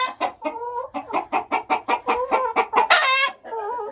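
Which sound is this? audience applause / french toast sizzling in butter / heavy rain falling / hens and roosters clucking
hens and roosters clucking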